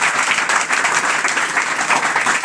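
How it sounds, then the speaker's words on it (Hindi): A crowd of students claps together in dense, continuous applause, loud and steady throughout with no talking over it. "इनके लिए एक ताली हो जाए"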